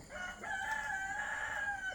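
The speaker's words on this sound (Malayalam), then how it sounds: "ഈ കോഴിക്ക് എന്ത് രാവിലെ കോഴിക്ക് കുറച്ച് പണിയില്ല" A rooster crows in the morning: one drawn-out crow rising and holding, loud and fairly close, over a soft outdoor background.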